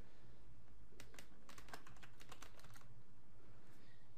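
A password typed on a computer keyboard at a Windows sign-in screen, a quick close burst of soft key clicks in the middle, quiet before and after.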